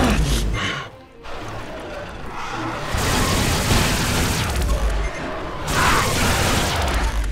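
Heavy booms and loud blasts from a gun in Doom Project Brutality, thick explosive bursts that pause briefly near the start and then keep pounding in dense, rumbling waves.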